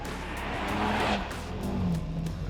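A 2018 Honda Civic Type R, a front-wheel-drive hot hatch, driven hard on a race track, its engine note rising and falling with tyre squeal and skidding, loud and close throughout.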